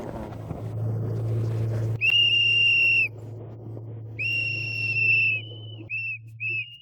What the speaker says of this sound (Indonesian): Suara peluit yang khas mengeluarkan bunyian yang bisa dimengerti sesama lumba-lumba lainnya.